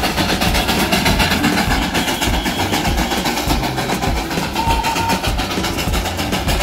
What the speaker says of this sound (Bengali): ওখানে তো একটা ট্রেন দাঁড়িয়েছে